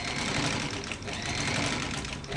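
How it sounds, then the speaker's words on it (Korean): A vintage 1934 Singer sewing machine fitted with an electric motor sews continuously, a dense, steady mechanical whir and rattle that stays loud and even throughout. "이렇게 바느질을 할 수가 있겠습니다. 지금 현재 전체 조정을 마치고 바느질을 하는 영상인데요"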